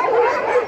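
A dog at an animal shelter in freezing weather gives a single short, close bark that tails into a whine.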